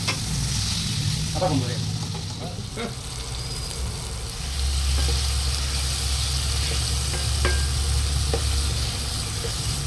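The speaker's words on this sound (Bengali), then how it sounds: "কাঁচা লঙ্কাগুলো এর মধ্যে দিয়ে দিচ্ছি, দিয়ে আবার ভাজি" Spices and green chillies frying in a pan, giving a continuous close sizzle with stirring scrapes and a low hum beneath, while someone speaks briefly over it.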